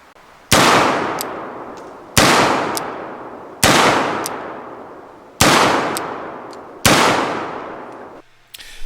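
Five shots from an EMF Pietta 1851 Navy replica black-powder revolver on a range, evenly spaced sharp loud bangs, each followed by a decaying echo.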